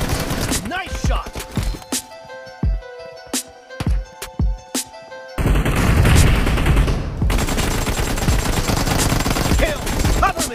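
Rapid bursts of gunfire from the mobile battle royale game PUBG Mobile, with repeated sharp shots and automatic volleys, loud and close, shifting into a denser barrage in the second half.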